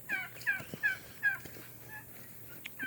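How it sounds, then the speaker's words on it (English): Turkeys on a farm gobble in repeated quick rattling bursts, fairly close and clear against a quiet background, with no talking. "Turkeys are evil."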